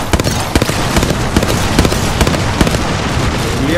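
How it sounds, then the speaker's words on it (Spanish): Bangalore's ultimate artillery strike in Apex Legends pounds the area with a rapid crackling string of explosions, dense and loud, with sharp pops repeating throughout. "Va a tirar ulti, este Bangalore, eh."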